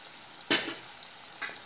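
Fried eggs tipped into a pan of masala curry with yogurt give one sharp sizzle burst, then a fainter second hiss a moment later, close up with no talking.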